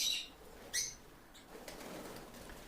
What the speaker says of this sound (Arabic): يعني الطيور بتحب التفاح كثير، شوفوا إقبال عليه